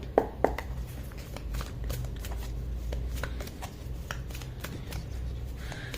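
Tarot cards being shuffled by hand, a steady run of close, crisp riffling and tapping with a few sharper snaps, heard alone without talk.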